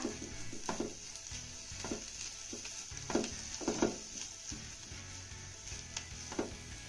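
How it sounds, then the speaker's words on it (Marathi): A spoon stirs potato bhaji with chopped coriander in a pan. Soft, irregular scrapes and taps sound over a faint, steady sizzle, quiet and close. "आता ही कोथंबीर चांगली मिक्स करून घेऊया"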